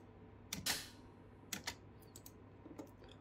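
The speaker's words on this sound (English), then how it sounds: "And we'll take a listen to the open hi-hat." A faint open hi-hat from a digital audio workstation rings with a brief hissy shimmer for a neo soul backing track, followed by quiet clicking sounds.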